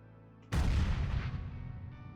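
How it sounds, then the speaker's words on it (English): A grenade explosion in the sci-fi video game Quasimorph: a sudden deep boom after a brief quiet lead-in, followed by a long rumbling, slowly fading roar. "We're actually gonna use a grenade here."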